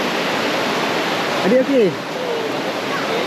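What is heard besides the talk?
river water and waterfall at Sungai Chiling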